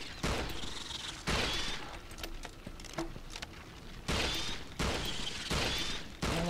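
Several loud bursts of gunfire from a gun in the King Kong video game, each a few seconds long, separated by quieter gaps with clicks and distant booms.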